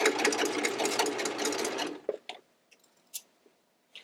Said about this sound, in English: all I have to do is pull slightly with my hand, and the machine will make the curve for me